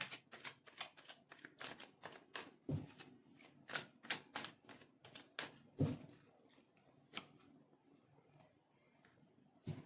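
Tarot cards shuffled by hand in quick, crisp riffling bursts, with close papery flicks that thin out toward the end, quiet and without speech.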